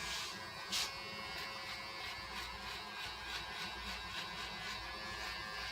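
A hair trimmer cleans up the back of a haircut with a faint, steady electric buzz that runs unbroken throughout, heard alone without speech.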